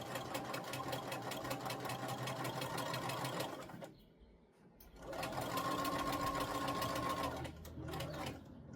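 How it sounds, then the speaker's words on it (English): A sewing machine bastes a bodice seam at a 5/8 inch allowance, running in a steady fast hum for several seconds, pausing briefly, then starting again, close and clear. "Basting this at the 5/8 seam allowance."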